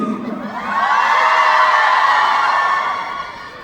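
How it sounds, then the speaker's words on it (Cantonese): A crowd cheers and whoops for Dr. Kwong, swelling into a loud, sustained roar of mixed voices that holds steady and then eases off near the end. "麻煩俾最大聲嘅歡呼聲我哋嘅邝醫生，全世界最靚仔嘅邝醫生，聽得多啲嘅歡呼聲"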